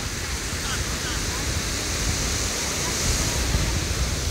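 Broad, steady roar of surf washing in at Baron Beach, Gunung Kidul, Yogyakarta, loud and continuous with a slight swell near the end, and no clear voices.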